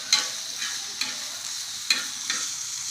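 Garlic, ginger and green chillies sautéing in a pan for chutney, a bright, steady sizzle with a few scraping stirs of the spatula, close up and with no speech.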